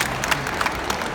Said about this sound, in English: give them all a big round of applause, ladies and gentlemen.